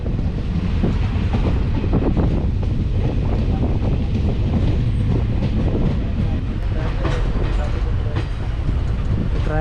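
A passenger train on Kerala's Nilambur Road to Shoranur line rumbles steadily along the railway track near Kozhikode, heard from on board with constant loud wheel and carriage noise mixed with wind buffeting.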